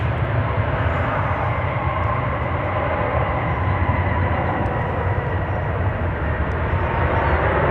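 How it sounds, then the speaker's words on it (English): Steady, loud roar of a Korean Air Cargo Boeing 747-8 freighter at DFW Airport, a broad continuous rumble holding constant throughout with no voices. "at the Korean Air Cargo 7478 going to Anchorage"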